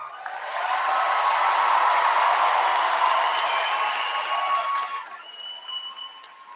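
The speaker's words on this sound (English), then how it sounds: "Let's give our graduates one more round of applause." Sustained applause from a large audience honours high school graduates at a commencement ceremony, swelling quickly, holding steady for several seconds, then thinning out as a few scattered shouts ring over it.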